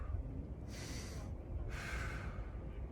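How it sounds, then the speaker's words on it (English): Two deep breaths during an upper-body stretch, each a close, airy rush of air lasting about a second, the pair spaced roughly a second apart over low background rumble. "Nice big deep breaths as you go."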